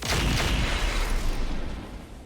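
Mech weapons fire and strike a Griffin in RogueTech, a dense roaring burst of blasts and impacts that fades out toward the end, with no talking.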